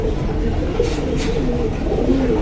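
Two pigeons coo softly and repeatedly, with low, steady calls close by under a constant background hum.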